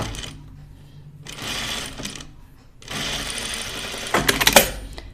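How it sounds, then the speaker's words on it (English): A sewing machine edge stitches a dress in two bursts of close rapid mechanical whirring separated by a quiet gap, the second run longer and ending with a few sharper clacks. "I'm going to just edge stitch this."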